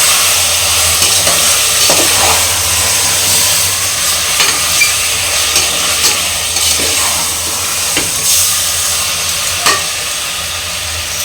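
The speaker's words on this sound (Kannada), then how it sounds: "ಇದನ್ನು ಒಂದೆರಡು ನಿಮಿಷ ಇದೇ ಥರ ಫ್ರೈ ಮಾಡ್ಕೊಳ್ಳೋಣ" Marinated chicken stir-fried in a pressure cooker pot with onion and ginger-garlic paste for chicken biryani, with a loud steady sizzle and regular scraping stirs of a ladle, no talking.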